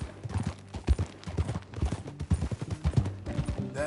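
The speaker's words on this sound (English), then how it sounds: "That new horse?" Horse hooves clip-clopping in the Red Dead Redemption 2 game, a steady, close, rhythmic series of hoofbeats at a walking pace, fairly loud and without talk.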